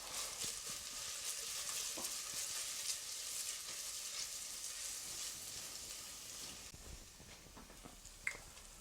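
A chili, garlic and ginger puree cooks gently over low heat with a soft continuous sizzle, faint and close, with a few light stirring taps near the end.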